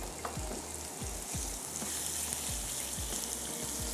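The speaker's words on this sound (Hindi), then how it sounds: "थोड़ा सा मसाले को भूनते हैं" A masala spice mixture for vegetable seekh kebabs fries in a pan with a constant bright sizzle. Soft low scraping strokes from stirring recur at a steady rhythm underneath. No voices.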